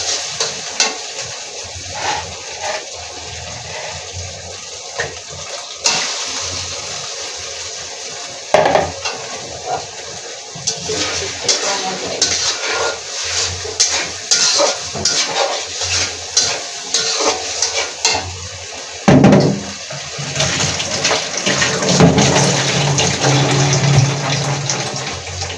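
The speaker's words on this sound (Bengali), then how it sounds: "এখানে হচ্ছে 2টা ভাজি করছি" Two vegetable bhaji dishes fry on a home stove, electric and gas burners side by side, with a steady sizzle under frequent stirring and scraping of utensils against pans, spoon clinks and pot knocks rising and falling, no talking.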